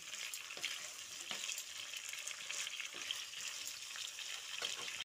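Chicken frying in a pan while being stirred together with green chilli and tomato; continuous soft sizzle with faint scraping strokes of the spoon, quiet and close, no voices.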